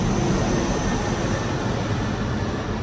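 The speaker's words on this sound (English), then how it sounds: "I'm so tired of these airplanes." Steady broadband roar of airplanes flying over near an airport, a continuous loud drone with no talk.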